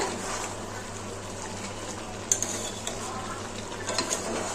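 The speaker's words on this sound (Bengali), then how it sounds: "চিকেনটা আরেকবার নেড়ে নেব।" Chicken kosha, a Bengali spiced chicken dish, is stirred in a pan over medium heat with no added water. A steady low sizzle runs throughout, broken by a few light utensil clinks and scrapes near the middle and end.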